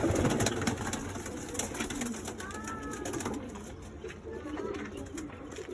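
Madras pigeons in a loft give soft, low cooing calls amid steady background noise, the coos faint and intermittent over several seconds.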